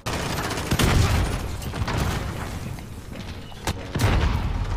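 Grenade explosions and gunfire in Call of Duty: Modern Warfare on the small Shipment map, heard as a busy mix of sharp shots and booming blasts at irregular intervals over continuous game noise, with several loud hits standing out.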